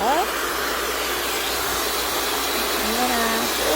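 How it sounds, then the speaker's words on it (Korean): A hair dryer drying a painted plaster air freshener blows with a steady, loud rushing whoosh that runs without a break from start to finish. "드라이기로 이렇게 또 한 번 더 말려볼게요."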